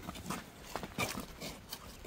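A foal is led along on foot, its hooves making a scattered, uneven clip-clop of light knocks at close range, mixed with soft shuffling and no clear talk.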